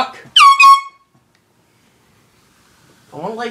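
Two short, loud air horn blasts are blown close at a person lying with dogs, followed by silence and then a voice protesting.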